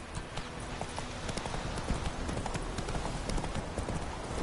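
Roach the horse galloping in a video game, a rapid continuous clip-clop of hooves at a steady rhythm under a constant background wash.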